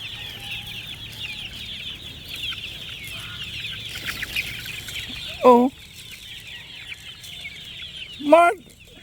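Chickens and chicks on a farm in the afternoon keep up a dense, continuous chorus of high peeping and clucking, with two louder, nearby clucks standing out over it.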